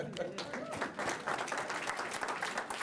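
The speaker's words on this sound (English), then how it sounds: "was a pretty weak applause for one of your colleagues who dared to get up" Thin, scattered clapping from a lecture audience, faint and sparse, comes through alongside people talking in the room.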